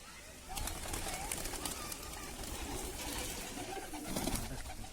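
Pigeons coo softly and repeatedly against a noisy outdoor background.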